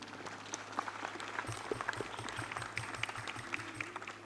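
Faint, distant applause from an audience at a pesantren graduation and anniversary celebration, a soft continuous patter of clapping with no speech over it.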